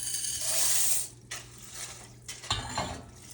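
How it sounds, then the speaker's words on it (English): Dry pasta poured into a pot of one-pot hamburger helper, a loud rattling, hissing rush for about a second, then scattered softer clatters and stirring scrapes. "We are ready to go to add in this pasta."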